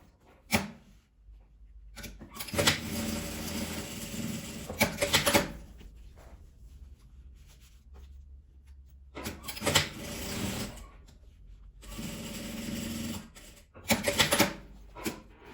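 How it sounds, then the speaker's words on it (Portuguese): Sewing machine stitching a seam along a small zippered fabric pouch, running in three bursts of steady mechanical whirring separated by quiet pauses, close and fairly loud with no talking. "Eu vou passar uma costura daqui até embaixo, com um pezinho de máquina"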